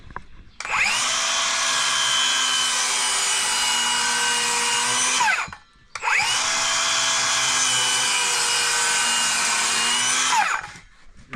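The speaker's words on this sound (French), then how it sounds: "tout simplement, je mets un coup de circulaire après" A circular saw rips through a wooden batten twice in succession, each cut a loud, steady whining buzz lasting several seconds, with a short spin-down pause between the two passes and close to the listener.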